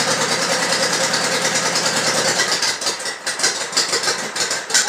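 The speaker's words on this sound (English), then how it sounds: "I'll do a quick start up for you" A 2002 Honda VT1100C Shadow motorcycle engine idles steadily and close by, a smooth even drone that turns into uneven, lumpy pulses toward the end.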